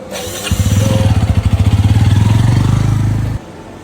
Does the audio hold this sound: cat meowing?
no